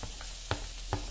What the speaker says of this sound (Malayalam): എന്നിട്ട് ഒന്നുകൂടെ നന്നായിട്ട് പൊരിച്ചെടുക്കാം.